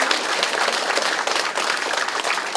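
Crowd applause at the opening of a People Power Party candidate's Mapo-eul campaign office, a dense, steady patter of many hands clapping throughout a short stretch with no talk.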